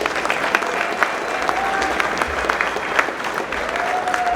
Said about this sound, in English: Massive round of applause for them.